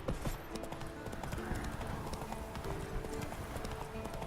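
Hooves of a horse clip-clop in The Witcher 3 video game, a steady quiet trotting rhythm of repeated clops over faint ambient game sound.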